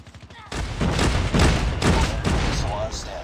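Rapid bursts of automatic gunfire from COD Mobile battle royale, played on a PS4 controller, rattle loud and close for about three seconds, with a few faint clicks just before.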